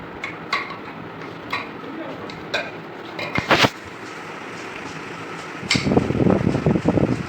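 Curd being mixed into chicken in a cooking pan, with scraping and stirring that grows louder and more continuous near the end, over a steady fan-like hum.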